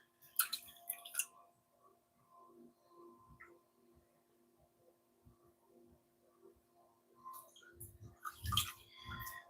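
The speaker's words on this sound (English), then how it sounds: "we're going to get the excess water out of here" Wet squishing and soft dripping as excess water is sponged out of a clay pot spinning on a pottery wheel, with short louder bursts at the start and end over a low, steady wheel hum.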